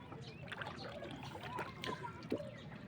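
Rowing boat moving through village floodwater in the rainy season, with soft steady sloshing and trickling and a few light splashes from the oars, quiet and close, under a low continuous background.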